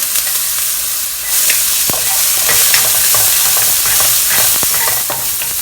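Grated ginger and chopped garlic sizzle in a little oil in a wok over medium heat, a loud steady frying hiss with occasional stirring clinks and scrapes.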